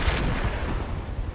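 A rotary rifle in the mech game Roguetech fires a dense, continuous roar of rapid shots, loud and close, with no voices over it.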